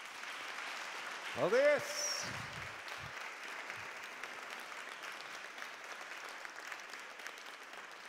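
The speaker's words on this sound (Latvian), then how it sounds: "Man patīk, kā skan aplausi." An audience at the Latvian Event Forum excellence awards ceremony keeps up a continuous, fairly soft round of applause, with a short spoken word and a rising whistle-like tone near the start before the clapping carries on alone.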